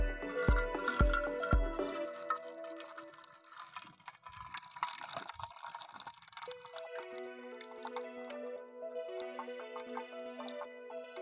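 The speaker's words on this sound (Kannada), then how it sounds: "ಬೇಳೆ ಬೆಂದಿದೆ, ನೀರು ಕಟ್ಟು ಬಸ್ಕೊತೀನಿ." Water is drained off boiled lentils while making hasi udaka, a village-style Kannada dish: a few short, close splashing pours at the start give way to a thin, steady trickle and drips.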